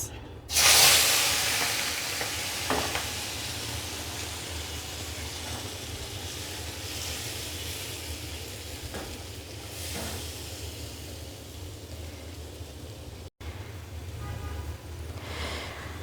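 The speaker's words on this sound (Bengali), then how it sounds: "প্রথমে আমি কড়াইতে তেল ভালো করে গরম করে নিয়েছি এবারে দিয়ে দেব চিংড়ি মাছ" Shrimp dropped into oil heated in a wok give a loud burst of sizzle, then a steady broadband hiss of frying carries on alone for the rest of the clip.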